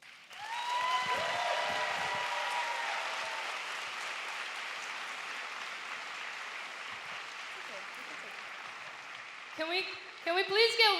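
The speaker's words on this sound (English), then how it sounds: "Can we please get one more round of applause for Mr. Thakur Mishra?" Audience applause at a cultural stage show, steady clapping that swells and holds for several seconds, with a voice speaking briefly under it early on and talk returning near the end.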